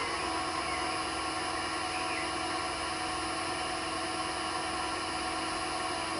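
A Record Power CL1 wood lathe motor runs steadily at speed, a constant even hum with a high whine layered over it, close and unchanging throughout, no voices.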